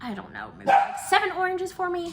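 A pet dog barks and yips in short bursts close by, overlapping someone talking indoors.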